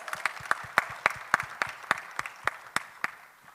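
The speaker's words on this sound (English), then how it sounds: "let's put our hands together and a round of applause for our organizers" A small audience at a conference plenary session claps in a steady, fairly regular rhythm, individual hand claps distinct and close, roughly three per second, with little else beneath.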